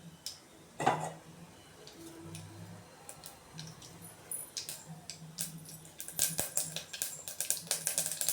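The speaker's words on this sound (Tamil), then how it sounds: "கடுகு நல்லா பொரியுது பாருங்க" Mustard seeds pop and splutter in hot oil in a pan for kara kulambu, starting with scattered faint ticks and growing into a denser run of sharp crackles toward the end. No one speaks.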